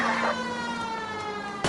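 A police car siren wails steadily in the video game L.A. Noire Remastered, a sustained electronic tone that rises then holds, loud and close.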